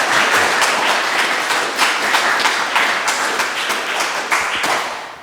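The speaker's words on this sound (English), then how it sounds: "can you give one big applause?" Applause from the audience at a talk on Christian presence and ministry in the Holy Land, loud, close hand claps forming a busy, irregular patter that fades slightly at the end.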